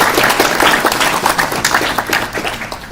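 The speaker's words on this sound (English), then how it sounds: "let's give one more round of applause for all of our amazing leads and heads that have talked today" Audience at a student club kickoff event giving a round of applause, dense crowd clapping close by that holds strong and then gradually tapers off over a few seconds.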